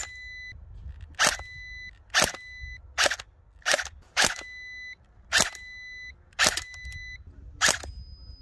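Eight sharp cap-gun-like shots strike an electronic target, and each hit is followed by a steady electronic beep. The shots come at roughly one-second intervals in a quiet setting.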